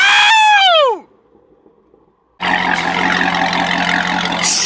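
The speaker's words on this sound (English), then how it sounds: "All you got is an exhaust." A C6 Corvette Z06 fitted with a Corsa Extreme exhaust bursts into a loud, dense roar after a falling tonal sweep and a short near-silent pause, then holds steady and close.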